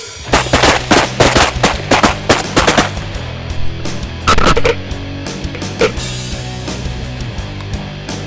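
Shotguns blast repeatedly during a blue-winged teal duck hunt, with a rapid volley of close, loud shots followed by a few scattered reports and quieter gaps.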